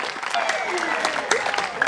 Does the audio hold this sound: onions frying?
no